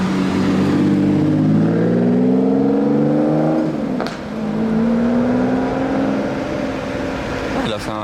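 A Lamborghini Aventador SV coupé pulls away in a Paris street, its engine rising through rising harmonic sweeps, dipping briefly at a gear change, then droning steadily on, loud and close, with people talking over it.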